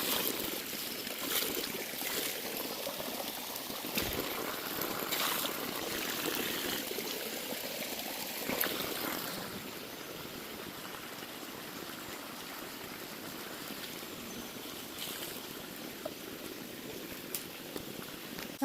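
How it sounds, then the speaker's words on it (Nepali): Water trickles beside a hiking trail on the way to Bishnudwar, a steady, even rushing wash that holds at the same moderate level from start to finish with no break. "टिङ टिङ टिङ टिङ पानी रहेछ"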